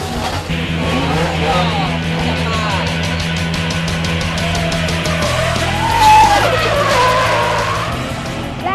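Race cars roar past with engines screaming and tires squealing in sharp skids, a continuous loud blur of motor noise and shifting pitch.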